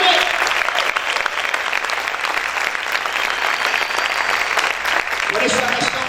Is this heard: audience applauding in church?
yes